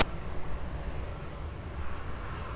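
An aircraft landing at Lisbon Airport, a steady low jet-engine rumble and roar heard from a distance, sustained and fairly loud with slight swells, no voices.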